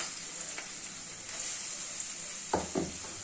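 Hot oil sizzles steadily in a pan as papaya pieces go in, with soft clatters of the pieces landing near the end over a continuous frying hiss.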